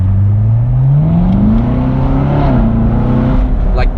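A 2016 Chevrolet Corvette C7 Stingray V8 in track mode pulls hard from inside the cabin, its loud engine note climbing steadily in pitch, dipping briefly at a shift, then rising again.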